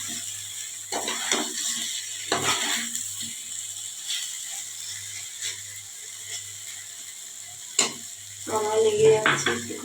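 Masala paneer fries in a pan while a spatula stirs and scrapes against the metal in short bursts, over a soft sizzle and a low hum.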